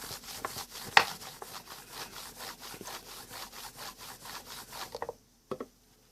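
Hand polishing of the plating on a Pioneer TX-9100 tuner, a brisk rhythmic back-and-forth rubbing with steady strokes, close and fairly loud, ending in a pause and a couple of last scrapes.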